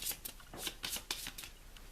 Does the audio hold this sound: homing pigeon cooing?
no